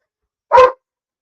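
A single sharp dog bark rings out close by in a quiet indoor home, one short loud burst with silence before and after.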